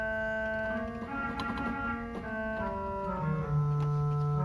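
A pipe organ's clarinet stop, on a large 1922 Skinner and 1950 Moller organ, plays a slow, sustained melody of reedy held notes, faint and close in a quiet room.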